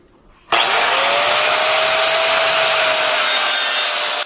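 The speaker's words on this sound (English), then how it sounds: "I'm going to put this thing in the vise and start buffing away, I guess." A 5-inch grinder spins up abruptly and runs loud and steady, a high whining buff against stainless steel held in a vise, with a constant tone throughout and no talk.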